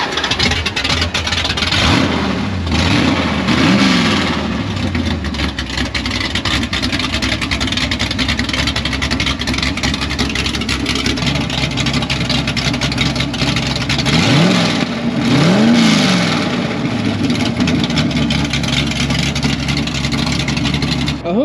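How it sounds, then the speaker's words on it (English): A Mopar car engine revs hard in two distinct bursts over a loud, continuous engine roar, close by. Voices are faintly present underneath. "You go start the car."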